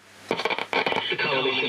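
Shortwave broadcast of ABC Radio Australia received on a 1968 Sharp FV 1700 DX radio: a distant announcer's voice through hiss and interference, breaking into choppy bursts before settling into a steady, noisy tone.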